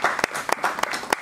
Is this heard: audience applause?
yes